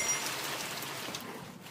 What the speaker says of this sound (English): Man, that rains a lot.